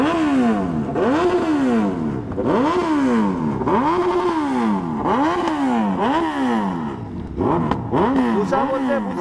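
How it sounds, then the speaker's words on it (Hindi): A Triumph Speed 400 motorcycle revs repeatedly, about eight rising and falling throttle blips in a steady rhythm, loud and close, with the exhaust note dominating. "सुनो एग्जॉस्ट नोट सुनो"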